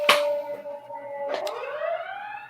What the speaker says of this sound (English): Sound of ambulances.